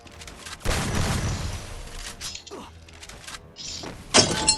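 Gunfire in the mobile shooter Free Fire, with bursts of shots coming from above: broadband crackling volleys early on and a sharp, loud burst near the end, mixed with game effects and no talking.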